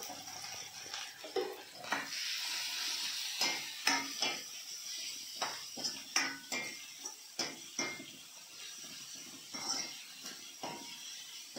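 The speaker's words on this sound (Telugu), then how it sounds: "ఉల్లిగడ్డలు మంచిగా ఫ్రై అయినాయి" Onions frying in a home kadai for a brinjal-egg curry, with soft sizzling under repeated clinks and scrapes of a spoon stirring against the pan, close and fairly quiet.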